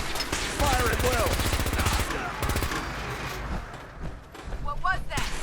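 Sustained bursts of automatic and rapid gunfire in the video game Fallout 4, loud and close, overlapping with shouting voices and dropping off before another flurry near the end.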